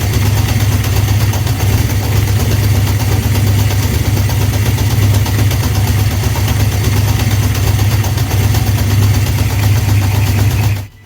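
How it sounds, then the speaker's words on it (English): A Honda CB750 four-cylinder motorcycle engine idles steadily at about 1000 RPM after carburettor synchronisation, a loud, even low rumble running alone for the full length before cutting off abruptly at the end. "By turning the adjuster nuts on each carb, I managed to even out the airflows across all cylinders, whilst maintaining a steady idle speed of around 1000 RPM."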